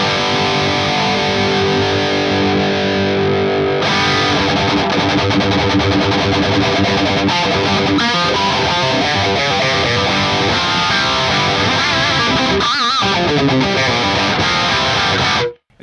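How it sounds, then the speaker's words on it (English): High-gain electric guitar through the Axe-Fx III's FAS Modern 3 amp model at stock settings, a dense, saturated distorted tone played continuously with chugging riffs and sustained chords, loud and upfront with no talking. "Modern 3 at the stock setting sounds like this."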